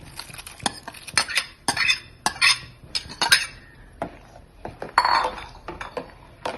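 A spoon stirs soaked sago into boiling payasam in a metal pot, with close scraping and clinking of metal against the pot in busy irregular bursts and a soft bubbling underneath.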